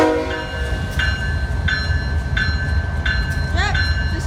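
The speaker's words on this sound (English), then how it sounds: "this auto train's about to go" BNSF locomotive 7144 leads a freight auto train departing Auburn station, Washington. Its horn sounds four short, evenly spaced blasts and then a wavering note over a low, steady rail rumble.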